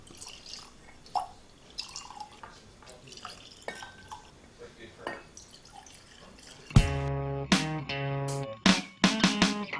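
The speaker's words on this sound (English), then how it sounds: "I'm going to pour it and let's get started." Eagle Rare 10 year bourbon pours into a glass with a close, gurgling glug-glug of liquid, following a stretch of faint drips and small clinks.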